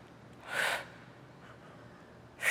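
A sharp, breathy exhale during an at-home Pilates strength workout, one short burst near the start and another at the very end, close and clear over a quiet room.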